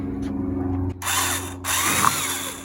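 A fast-spinning drill fitted with a paint-stirrer attachment whirs loudly as it mixes paint for a Ford Bronco II paint job, running in two close bursts with a brief pause between.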